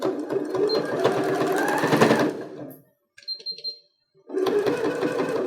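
A sewing machine runs in two bursts of rapid, steady stitching as it back-tacks through layered fabric on a 3D face mask, with a short gap of quieter clicking and handling in between.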